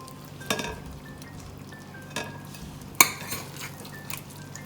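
Mutton curry with bhindi is served from a pot into a dish, with a few sharp clinks of a metal ladle against the cookware and soft scraping and sloshing between them, and no talking.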